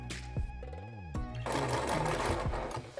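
A sewing machine stitches the collar of a baby bib a few millimetres from the edge. Short, rapid stitching bursts give way to a longer, sustained run of fast mechanical chatter, heard close up with no talking.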